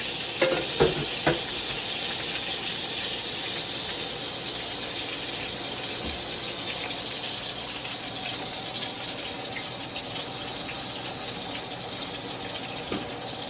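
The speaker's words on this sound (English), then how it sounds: "gonna use the same bacon fat to fry the cabbage" Shredded cabbage frying in leftover bacon fat in a pan, a steady bright sizzle throughout with a few soft clinks of stirring near the start, no talking.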